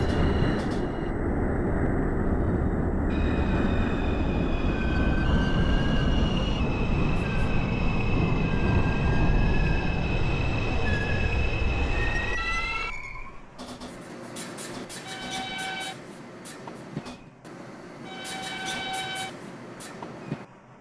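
A simulated New York subway 2 train in the OpenBVE train game rumbles and whines along the track, tones rising and falling, then slows; chimes and door-area sounds follow after the motor noise drops away.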